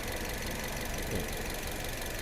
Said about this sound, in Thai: เสียงเครื่องยนต์เดินนิ่ง ๆ เลย